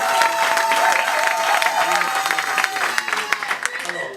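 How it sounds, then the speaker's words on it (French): A church congregation applauds and cheers for a preacher, a crowd of clapping and voices that starts full and thins out toward the end, with a sustained tone ringing underneath. "Können wir applaudieren für diesen Mann Gottes?"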